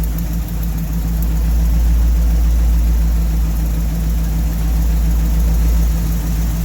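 An engine idling steadily during a cylinder power balance test, with a loud constant low rumble and even hum throughout, heard close with no talking.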